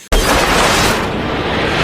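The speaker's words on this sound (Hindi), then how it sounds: "तब अचानक से केबिन में एक जोरदार धमाका होती है" A sudden loud blast in an airliner cabin at altitude, as part of the roof tears away, becoming a sustained, roaring rumble that fills the whole clip without easing off.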